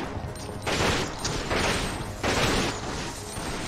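Gunfire in the survival horror game Resident Evil Outbreak on PS2 comes as three loud, harsh bursts of shots about three-quarters of a second apart, over a noisy game background.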